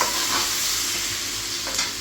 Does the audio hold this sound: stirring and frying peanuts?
yes